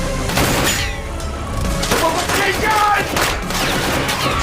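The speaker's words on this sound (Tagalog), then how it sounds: "Nagkaroon ng palitan ng barilan sa magkabilang panig ni Ramon at Rigor." Rapid bursts of gunfire crackle back and forth in a dramatic firefight, loud and dense throughout with thuds and booms mixed in.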